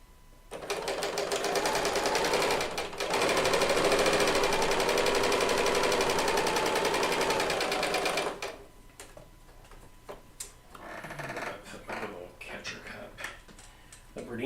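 A Bernina serger runs at high speed stitching quilt fabric in a steady, loud mechanical whir for about eight seconds with a brief pause, then gives way to quieter handling noises and light clatter.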